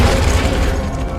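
Confringo blasting spell explosion in Hogwarts Legacy, a loud, rumbling boom that sustains briefly with crackling texture before thinning out toward the end.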